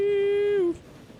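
Freight train in the video game Transport Fever sounding one sustained, steady horn blast that dips slightly in pitch before cutting off abruptly, leaving faint background noise.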